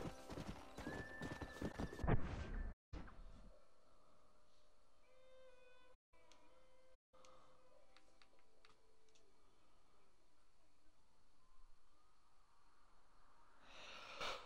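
Hooves clip-clop in a steady rhythm at moderate distance, with a horse whinnying and snorting over quiet ambient game audio in Red Dead Redemption.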